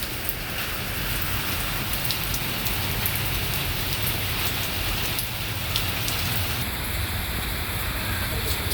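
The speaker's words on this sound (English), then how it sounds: "Tell me about how bad the rain is." Steady rain falls outdoors, a dense continuous hiss of drops on surfaces at even loudness throughout, with no other sounds standing out.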